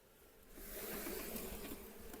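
Honeybees buzz around a hive frame during a split into a six-frame hive, a soft, close, swelling drone of wings that builds and then eases over a couple of seconds.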